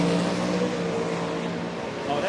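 A drag racing pickup truck making a pass at a motorsports park, a loud sustained engine roar carrying steadily from start to finish with a commentator's voice faintly mixed in.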